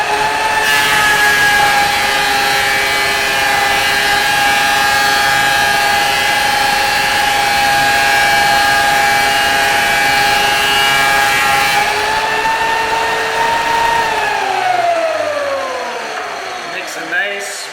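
Thickness planer feeding a wooden board, a loud steady whine with rough cutting noise that holds for about fourteen seconds, then spins down with a falling pitch as the cut ends. No one speaks over it.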